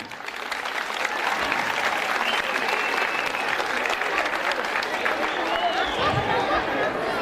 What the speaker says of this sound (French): On l'applaudit bien.